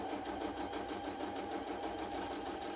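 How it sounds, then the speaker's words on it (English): A sewing machine runs steadily while stitching a short straight line on a quilt block, giving an even, rapid mechanical whirr with fine rhythmic ticking throughout and no talk. "all I'm going to do is just sew a little straight line"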